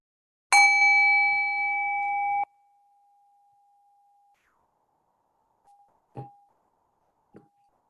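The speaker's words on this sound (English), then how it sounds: "1 bell to begin, 2 bells to end." A meditation bell sounds at the end of a practice: one loud struck tone that rings on and fades, then two softer, shorter strikes follow after a long quiet gap.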